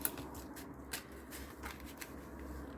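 Scissors cut ribbon at an angle in a few quick, close snips over a quiet room, while gift wrapping for a December advent project.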